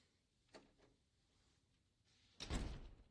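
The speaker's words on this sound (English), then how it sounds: "Close the door." A door closes in a quiet room: a faint knock or latch at first, then a louder thudding close near the end.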